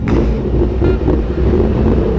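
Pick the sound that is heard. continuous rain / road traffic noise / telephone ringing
road traffic noise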